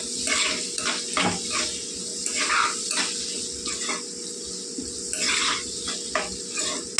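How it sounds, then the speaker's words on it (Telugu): Sliced onions frying with salt and turmeric in a pan, a low steady sizzle under repeated scraping and stirring clinks of a spoon against the metal pan. "కొద్దిగా వేగనిద్దామండి ఉల్లిపాయలు"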